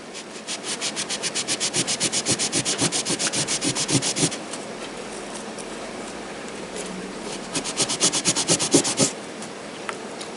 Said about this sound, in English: Just a quick rub.